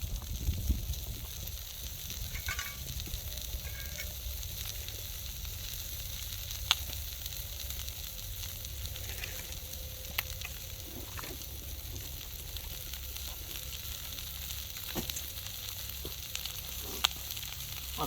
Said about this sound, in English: Sizzling already.